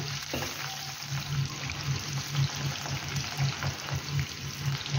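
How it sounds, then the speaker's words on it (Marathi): Green chilies crackle and sizzle steadily in hot oil, a dense frying hiss with small irregular pops, close and continuous with no talking. "अगदी कडकडीत तेलामध्ये आपल्याला या मिरच्या तळून घ्यायच्या आहे"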